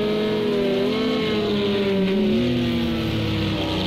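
A race car engine in the Project CARS 2 racing game at Monza drones and shifts pitch as it accelerates, steady and fairly loud throughout, with no talk.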